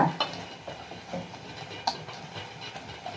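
Small onions sauté in a pan with a soft hiss and faint sizzle, broken by a few scraping stir strokes and utensil knocks, fairly quiet and without speech.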